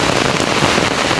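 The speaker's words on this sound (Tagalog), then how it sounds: "malakas ang ulan" Heavy rain on a farm pours down in a dense, loud, steady hiss with close patter throughout and no talk.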